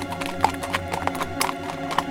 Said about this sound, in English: it echoes around, and you can hear the horse approaching